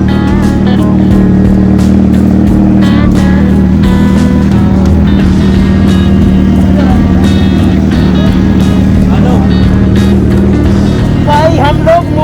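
A motorbike is ridden through Dubai, its engine droning steadily and loudly throughout, with wind and road noise and people talking over it.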